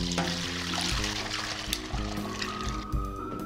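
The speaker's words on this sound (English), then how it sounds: "2 quarts of water with the kelp." Water runs and splashes steadily into a pot holding kelp for miso soup. The pouring is close and continuous, with a shifting, gurgling pitch as the pot fills.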